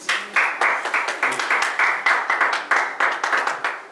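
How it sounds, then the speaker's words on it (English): A church congregation claps in praise in a steady, even rhythm, roughly two to three claps per second, crisp and fairly close with no talking over it. "We're going to give the Lord a hand clap of praise"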